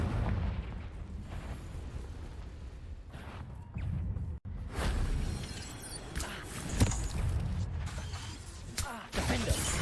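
A Confringo spell is cast in Hogwarts Legacy, with explosive blasts, sharp mechanical bursts and crackling impacts spread across the clip amid ongoing combat noise.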